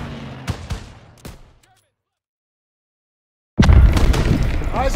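Call of Duty WWII Stronghold battle: a burst of gunshots and booming impacts, a sudden cut to silence, then a loud, dense roar of explosions and gunfire under voices.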